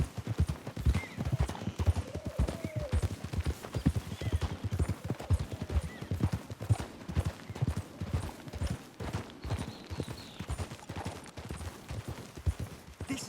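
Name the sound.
horse hooves in the video game Red Dead Redemption II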